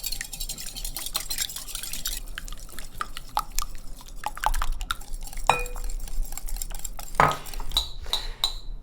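Yogurt and egg mixture beaten in a bowl for saffron chicken rice cake, with dense, rapid clicking and clinking of a utensil against the bowl running steadily throughout, close and fairly quiet, with a few sharper clinks near the end.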